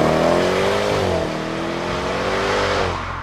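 Jaguar F-Type SVR V8 engine revving loudly and close, a steady harmonic roar that dips slightly mid-way then holds before easing off at the end, with no talk over it.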